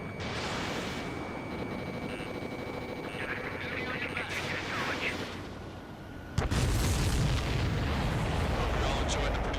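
Explosions and heavy combat rumble from the video game Ace Combat 7, a dense steady roar with a sudden loud blast-like surge near the end, alongside faint speech underneath.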